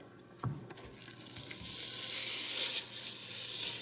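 A big pan of bacon sizzles over medium-high heat on a stovetop, the hiss building from a few light clatters into a steady, fairly loud crackle.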